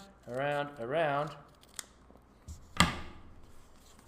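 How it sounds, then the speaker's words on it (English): Scissors snip through kinesiology tape strips in a few quick, crisp cuts, each a short sharp crunch heard close by, following a brief stretch of a voice speaking. "you can be really sneaky and do like I'm going to do and just cut around, around, around."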